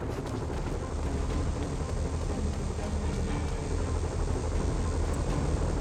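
A steady, dense rotor-like drone of a helicopter in a Spider-Man video game runs throughout, broadband and constant in loudness, with no voices over it.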